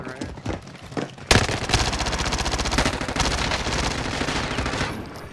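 Rapid automatic gunfire in a squad-based shooter video game, a sustained close burst of shots firing steadily for several seconds after a few scattered earlier shots, loud and dense.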